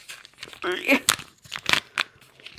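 DJI Mic packaging crinkles and tears in short, close bursts during unpacking, while someone talks over the rustling.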